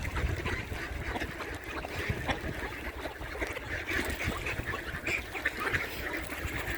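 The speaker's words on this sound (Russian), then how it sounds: "корм для уток, кукурузу, семечки и покормили уток." Crowded, continuous quacking from many ducks on a snowy winter pond as they are fed corn and sunflower seeds, loud and near with overlapping calls and no speech.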